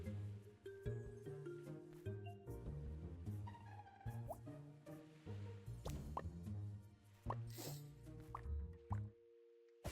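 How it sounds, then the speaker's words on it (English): Potato plants get watered in a farming video game, with a run of soft plops and drips layered over melodic game music tones, fairly quiet throughout. "Should water the potatoes so that we have some more."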